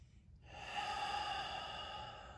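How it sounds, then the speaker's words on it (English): One long, steady breath during a yoga neck and shoulder stretch, rising after a brief quiet start and held as a soft, close airy rush, no talking. "Two full breaths here."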